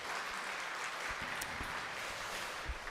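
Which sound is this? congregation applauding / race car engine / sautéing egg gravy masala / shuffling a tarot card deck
congregation applauding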